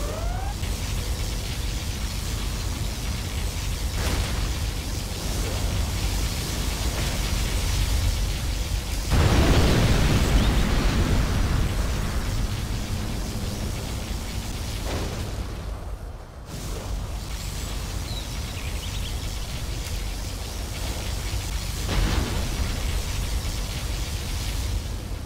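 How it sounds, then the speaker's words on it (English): Particle cannon blast in the Command & Conquer Zero Hour real-time strategy game, heard as loud sustained rumbling explosion noise with a strong boom swelling around the middle and a steady roar continuing throughout. "Particle cannon activated."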